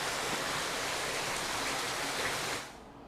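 Warm water pours from a natural hot spring out of a mountainside in Banff National Park, a dense, steady hiss of rushing water that fades near the end.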